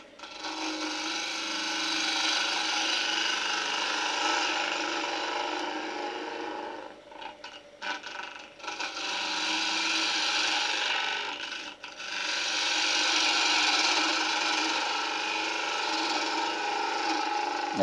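A wood lathe at about 1500 rpm turning a tea light holder, a steady whirring with scraping tool contact that briefly breaks up and dips midway before resuming loud and continuous.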